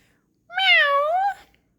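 A single loud, drawn-out meow voiced by a person imitating a cat, rising then falling, alone in silence.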